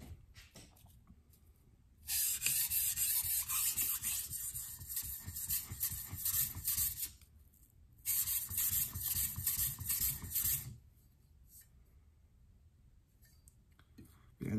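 A Wusthof Classic 7-inch santoku of soft steel is stroked across diamond sharpening plates. Two long stretches of close, steady gritty scraping are separated by a quieter pause, with no talking.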